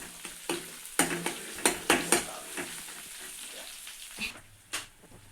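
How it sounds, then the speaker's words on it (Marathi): Sambar masala with cumin, ginger-garlic paste and chillies sautéed in a pan, a low sizzle punctuated by a quick run of sharp spatula taps and scrapes against the metal, close and unaccompanied by speech. "हे बघा मसाला परतलेला आहे आपला"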